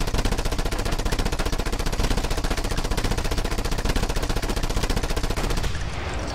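Rapid automatic gunfire from a first-person shooter video game rattles on continuously and loudly for several seconds, a dense unbroken burst of shots that tails off near the end.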